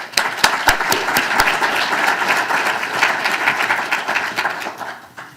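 An audience applauds at a panel discussion event, a burst of loud, close clapping with sharp individual claps at the start, merging into a dense round that thins out near the end.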